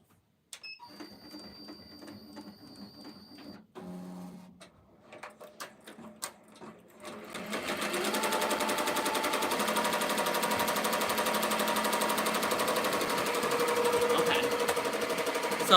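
A sewing machine stitches an appliqué for an Etsy order, starting with beeps and short clicks, then settling into a fast, continuous mechanical rattle that runs steadily and loudly to the end.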